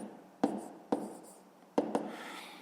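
A maths solution being written out by hand, four distinct pen or chalk strokes scratching against the surface, each a short rasp fading out, close and fairly quiet with no talking.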